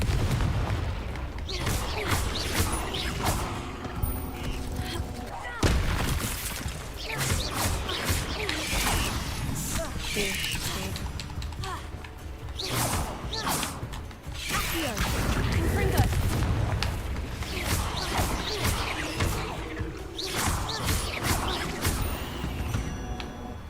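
Repeated Confringo explosion spells in a Harry Potter game boom and crash through a busy fight, with whooshes and impacts in irregular bursts, while a person talks over the action.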